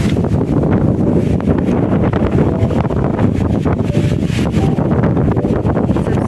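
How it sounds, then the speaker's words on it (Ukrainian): Strong wind sweeps sand across a desert-like dry area near Nikopol in hot August, a loud, unbroken roar buffeting the microphone with constant gusty rumble. "Вітер такий пісок, прямо мете, пустеля, дивіться."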